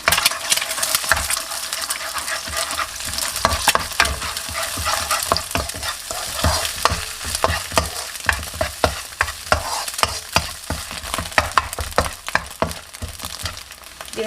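Beaten eggs stir-fried in a hot pan for Japanese chahan fried rice: a continuous loud sizzle broken by rapid, uneven scraping and clinking of a utensil against the pan.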